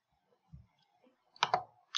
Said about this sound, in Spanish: Entonces selecciono clic, clic, clic, clic, doble clic.